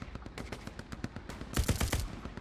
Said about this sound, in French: Ah oui, je tire dans le ciel, d'accord.